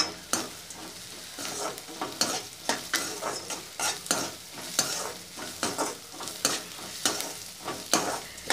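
Onions fry in an iron pan while being stirred, with a steady sizzle broken by regular scraping strokes about every half second, close up and with no voices.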